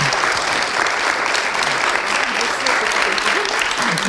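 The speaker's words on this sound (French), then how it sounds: "Je crois qu'on peut l'applaudir parce que c'est un baptême de l'air." An audience at a French urban-research conference applauds a speaker, a loud, continuous clatter of many hands clapping, with a voice talking over the applause.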